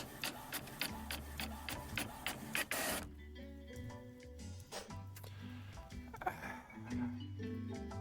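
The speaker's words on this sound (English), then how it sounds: "This printer has magnets in it, and it prints magnetic sheets." A magnetic printer in the hospital video game Prescribe and Pray prints a patient file with rapid rhythmic mechanical pulses, a short dense burst, then more irregular printing clatter and whirs.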